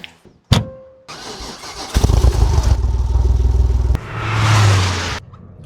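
A Porsche engine starts with a sharp crank, settles into a loud throbbing idle, then revs up strongly as the car pulls away, heard up close.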